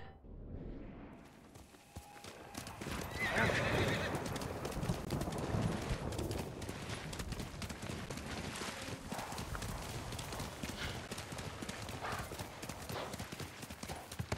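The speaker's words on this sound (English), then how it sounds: "Mighty jump horse Sora" A horse gallops across open ground in the Ghost of Tsushima video game, with fast, steady clip-clop hoofbeats that stay loud and continuous throughout.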